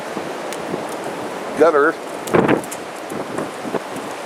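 Strong wind blowing during a Michigan high wind warning, a steady broadband roar buffeting the microphone with a few louder gusts, while a person talks briefly over it.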